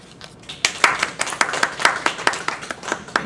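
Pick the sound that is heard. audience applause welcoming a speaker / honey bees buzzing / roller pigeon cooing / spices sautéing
audience applause welcoming a speaker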